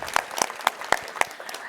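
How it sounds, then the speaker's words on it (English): A few people at an ICT summit give a brief round of applause: a handful of distinct, fairly close claps in quick succession, with no voices over them. "So give them one round of applause."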